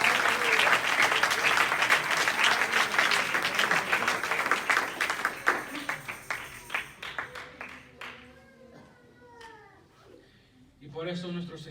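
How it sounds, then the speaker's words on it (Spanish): A church congregation bursts into loud, dense applause that gradually thins into scattered claps, then voices and preaching take over as the clapping dies away. "Denle un aplauso para el Señor"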